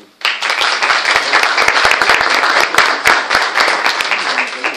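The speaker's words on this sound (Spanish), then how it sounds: "ya que me aplaudieron" An audience applauds speaker Miguel Ochoa at a physics lecture, bursting in abruptly with loud, dense clapping that holds steady to the end, sharp individual claps standing out, with possible faint voices mixed in.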